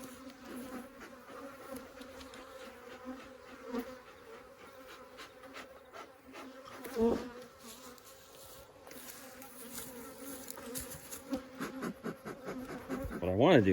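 Honeybees at a ranch beehive with a solid bottom board, an agitated late-season colony, hum in a steady close drone throughout, swelling louder and busier toward the end.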